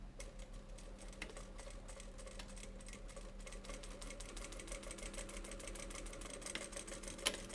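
A sewing machine runs a quarter-inch seam on a sterilization-wrap face mask, a faint, steady run of rapid needle clicks with a low motor hum and one sharper tap near the end.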